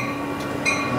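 Steady rumbling of a moving airport train in Yogyakarta with a sustained tonal whine and a brief higher squeal, loud and continuous.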